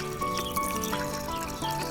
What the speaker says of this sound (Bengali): হ্যাঁ চোখে জল দাও, হাতে হাতে হাতে জল দাও।